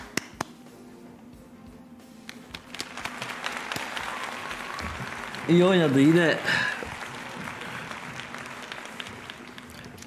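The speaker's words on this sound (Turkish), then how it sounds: "Ayağa kalkarım alkışlarım ya." A crowd applauds steadily for several seconds, with someone talking over the clapping and a loud voiced burst partway through.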